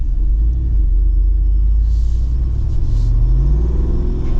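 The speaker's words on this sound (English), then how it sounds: "Gotta love just how much torque the V8 has." The 392 V8 of a 2025 Jeep Wrangler Rubicon gives a deep, continuous low rumble heard from inside the cabin under acceleration, steady and loud for the whole stretch.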